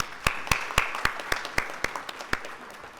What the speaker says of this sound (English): please join me in giving a huge round of applause to all our partners and collaborators